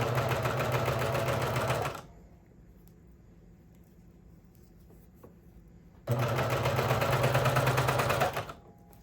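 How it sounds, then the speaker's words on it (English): A sewing machine stitches an elastic hem on swimwear in two loud, steady runs of close-up stitching, separated by a quiet pause of about four seconds. "So I'm going to go ahead and start sewing here."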